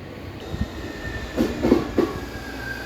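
A train runs near Tsurugamine Station in Yokohama, with a steady rumble and a few soft rail clacks and knocks in the middle, moderately close and without speech.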